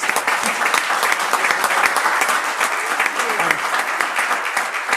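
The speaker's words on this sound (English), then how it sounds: "So we want to go ahead and, of course, applaud for Laura Thomas." Steady applause from an audience at a city council meeting honoring a retiring staff member, many hands clapping loudly and continuously without a break.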